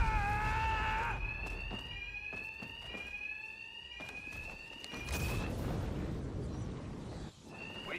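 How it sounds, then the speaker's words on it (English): A shrill fire alarm rings steadily in Batman: Arkham Knight, its repeating electronic tones layered over sharp impact thuds and crashes from a fight, with no talking. "Two-Face's thugs won't hear me over the alarm."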